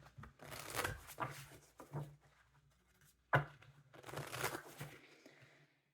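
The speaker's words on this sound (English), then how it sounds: "Two more shuffles." Papery shuffling and riffling of tarot cards in a few bursts, with a sharp snap partway through, close and fairly quiet.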